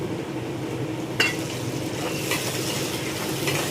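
Frozen peas go into a hot pan with oil and asafoetida for a quick eggplant rice dish, giving a steady sizzle with a sharp clink of a utensil and scraping stirring sounds throughout.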